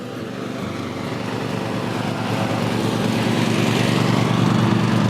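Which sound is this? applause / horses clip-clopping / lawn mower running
lawn mower running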